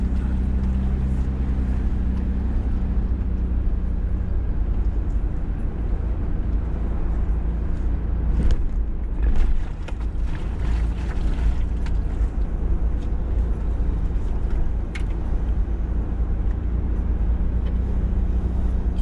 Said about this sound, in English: Driving through the little canyon is nice.